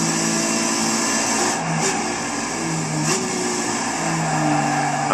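Race car engine in the GT Academy racing video game, a steady tonal whine whose pitch steps down and back up as the car brakes into a corner, alone with no voice.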